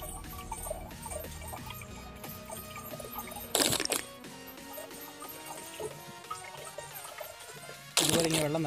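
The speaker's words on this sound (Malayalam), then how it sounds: "ഇതുപോലെ ഇങ്ങനെ വെള്ളം നിറയ്ക്കണം." Water poured from a container into a plastic bottle for a bubble bottle craft, a steady trickling pour over a busy background, with two brief louder gushing bursts.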